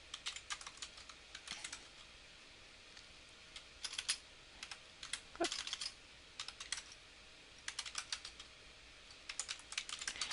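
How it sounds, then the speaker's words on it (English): Quiet, close keyboard typing as numbers are entered, irregular clusters of light key clicks separated by short pauses, with a few isolated keystrokes in between. "And the numbers, I'll type these in."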